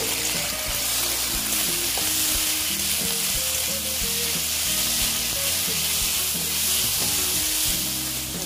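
Onions frying in oil for an egg and potato curry, a steady close sizzle and crackle running throughout with occasional scraping stirs and no voices.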